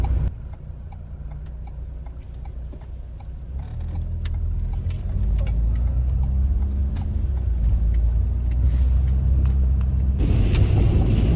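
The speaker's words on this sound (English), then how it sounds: "Traffic's really busy, isn't it?" Busy road traffic heard from inside a camper van in Ireland, a continuous low rumble of passing vehicles with light ticking, swelling louder toward the end.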